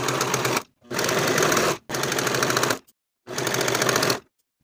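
A sewing machine finishes the shoulder edges of a blouse in four rapid, close bursts of stitching separated by short pauses, loud and alone with no voices.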